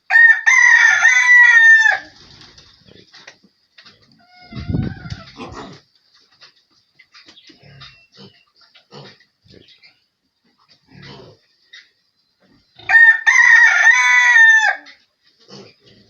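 On an African farm, a rooster crows loudly and up close twice, at the start and again near the end, with scattered quiet clucks from local chickens and a brief pig grunt between them.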